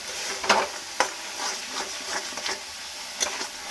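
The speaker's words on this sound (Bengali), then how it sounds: "সব কিছু দিয়ে নিয়ে ভালো করে নাড়াচাড়া দেবো" Spices for a yogurt egg curry are stirred in a hot pan, with a soft sizzle under irregular scraping and tapping strokes of a spoon, some sharper knocks standing out.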